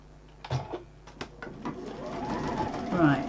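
A sewing machine stitches a bag at regular stitch setting, its motor whirring in short bursts and then running steadily louder toward the end, with a voice speaking over it.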